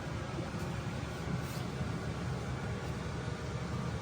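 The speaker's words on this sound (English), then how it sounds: "That noise you hear is the heater." A small diesel heater aboard a boat in Alaska runs with a steady, broadband hissing roar, constant and fairly loud without pauses, no voices.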